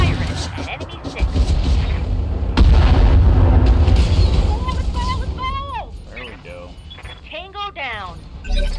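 Weapon fire and heavy booms from the mech combat game Roguetech, a sustained rumbling barrage with a sharp blast near the middle, followed by whining mechanical sweeps, with voices talking over it.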